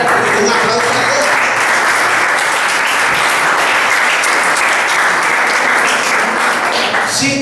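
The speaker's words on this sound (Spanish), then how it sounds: "Un aplauso a Dios" A church congregation breaks into loud, sustained clapping that fills the space evenly throughout, with a few voices faintly mixed in.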